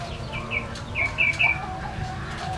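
A perkutut, or zebra dove, calls in a few short, bright chirps clustered near the middle, fairly faint over a steady low background hum.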